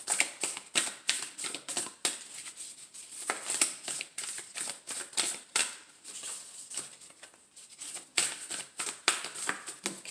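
Tarot cards are shuffled by hand in quick bursts of crisp riffling and slapping, a steady close rhythm of rustles and taps over about ten seconds with no talking.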